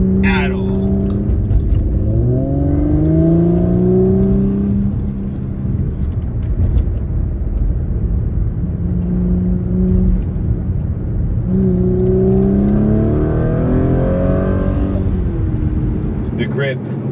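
An Audi S4 accelerates up a highway on-ramp, its engine note rising in two sweeping pulls, heard from inside the cabin with a constant road rumble underneath.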